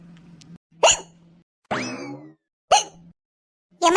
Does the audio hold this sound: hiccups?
yes